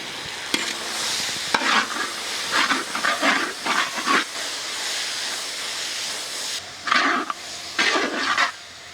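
Stirring one kilo of tomatoes into a big pan of sautéed ingredients for a village-style dry fish curry, with a steady sizzle and hiss under repeated scraping strokes of a ladle in uneven bursts.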